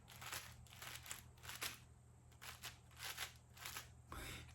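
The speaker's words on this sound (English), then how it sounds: "that sounds like a deer crunching, walking on some leaves" Spinning accordion feature on archery gear, a close rustling crunch that comes in uneven bursts and resembles a deer stepping through dry leaves, with no talking.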